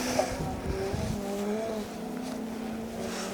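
A club-spec rally car passes on a forest stage in drizzly weather, its engine rising and falling through gear changes at a moderate distance, fairly faint and with no voices.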